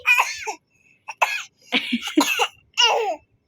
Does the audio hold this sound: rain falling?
no